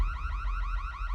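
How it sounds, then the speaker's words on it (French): A forbidden-zone alarm in a French street-football cartoon, a rapid warbling electronic siren cycling steadily and loudly, with no voices over it. "C'est l'alarme qui indique une présence dans la zone interdite."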